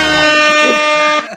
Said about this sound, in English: Brian, can I get a air horn, please?